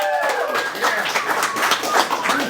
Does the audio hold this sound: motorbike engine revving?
no